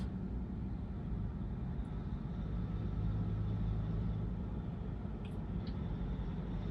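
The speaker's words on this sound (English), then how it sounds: "another giant truck pulling up" A giant truck pulls up at road works where the road is being torn up, a loud, steady low engine rumble that stays close and constant throughout.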